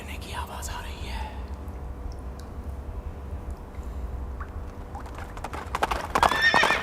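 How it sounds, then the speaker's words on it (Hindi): Horse hooves clip-clop and a horse neighs in a dark, atmospheric movie teaser, the whinny rising near the start over a low rumbling bed and a louder burst of sound at the end. "घोड़ा"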